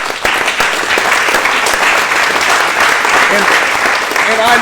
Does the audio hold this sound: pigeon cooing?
no